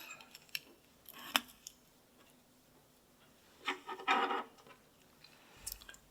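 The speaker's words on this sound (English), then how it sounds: "Use your scissors." Scissors snip thread while finishing a beaded Christmas ornament: a few quiet, brief cuts and rubbing handling noises spread across a faint, otherwise still stretch, with the loudest snips around the middle.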